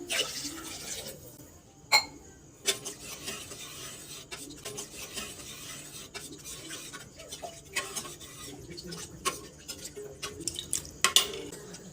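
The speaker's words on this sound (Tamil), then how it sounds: "சரி, இப்போது 2 டம்ளர் அளவுக்கு தண்ணீர் சேர்த்துக்கலாம்." Water goes into a pan of spiced vada curry with faint splashing and stirring, a scrape and a few sharp clinks of utensils against the pan over a low background hum.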